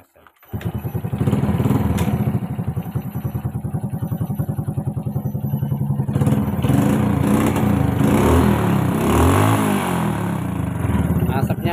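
An old motorcycle engine with an AC ignition fault starts up and runs roughly, its rattly putter rising as the throttle is revved, loud and close throughout.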